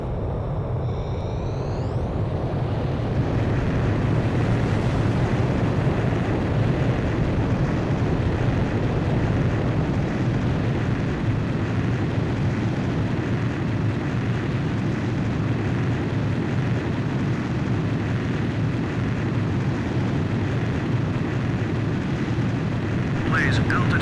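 A fighter jet launches by catapult from an aircraft carrier in the Ace Combat 5 video game, a loud, steady engine roar lasting throughout, with a brief rising whine at the start.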